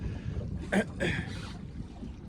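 Low, constant wind buffeting the microphone while fishing for cod, with rumbling gusts and a couple of brief muffled sounds on top.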